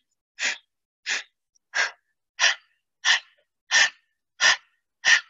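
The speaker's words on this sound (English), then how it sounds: "So each time I make that sound or that powerful exhale, you're lifting the abdominal muscles in your pelvic floor" Eight sharp, forceful breath exhales in a yogic breathing exercise, pumping the navel toward the spine, evenly spaced about once every two-thirds of a second, close and loud with silence between each.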